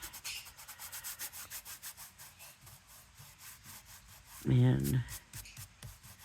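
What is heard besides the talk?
rubbing thick lunar paste off a surface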